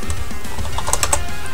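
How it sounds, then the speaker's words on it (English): Typing on a computer keyboard sounds as a quick run of close, clicky keystrokes with a few sharper taps in the middle, with no talking. "sorry, I was just typing something"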